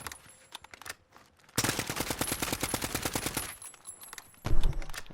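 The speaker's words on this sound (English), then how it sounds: "you can go like full automatic and shoot people there" Automatic rifle fire from an AN-94 assault rifle in Call of Duty Modern Warfare: a quieter burst, then a long sustained loud rapid-fire stream, followed by a final heavy burst, with no talking.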